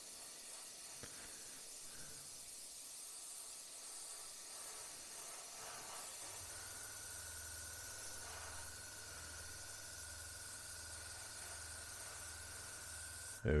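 An airbrush hisses steadily while spraying a wide blend coat of paint onto a Tamiya M1A2 Abrams scale model's engine panel, a faint continuous airy spray with a low compressor hum joining partway through.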